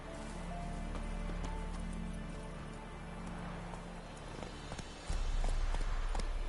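Hooves of Roach, a horse in The Witcher 3, clip-clopping at a steady gait under a low, continuous ambient rumble, fairly faint throughout.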